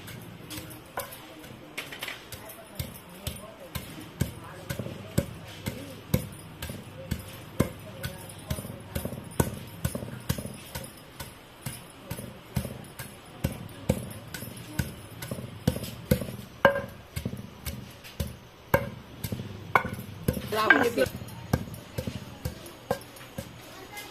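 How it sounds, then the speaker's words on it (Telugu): Dry coconut and green chillies pounded by hand in a stone mortar, a steady run of dull thuds and clacks repeating about once a second at close range, with voices heard at times in the background. "వీటన్నిటిని తీసుకెళ్ళి రోట్లో మనం దంచుకుందాం."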